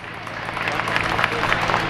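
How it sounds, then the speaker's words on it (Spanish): Crowd applauding at an anniversary horseback parade ceremony in Palmillas, Tamaulipas, a steady broadband patter of many hands throughout, fairly close and even in level, with a faint voice underneath. "un aplauso para todos ellos"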